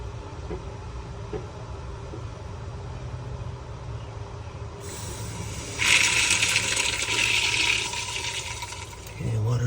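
Water rushes back through a Blu Technology 3-stage RV water filter once the supply is turned on, a low background hum giving way midway to a loud, steady hiss of flow that cuts off near the end.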